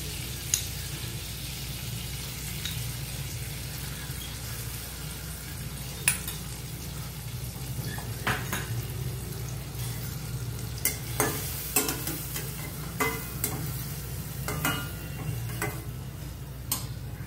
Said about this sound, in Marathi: जिरा घालून झालं तर त्याच्यामध्ये आपण कांदा घालूया.